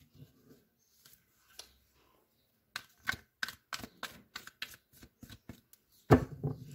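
Tarot cards shuffled and drawn close up: a few faint flicks, then a rapid run of crisp riffling snaps, ending with a louder card slap.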